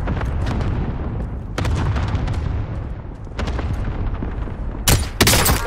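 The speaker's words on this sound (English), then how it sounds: "Launching rocket." Deep booming blasts and rumbling explosions from a rocket launched in a competitive shooter video game, a sustained low roar broken by sharp bursts near the end.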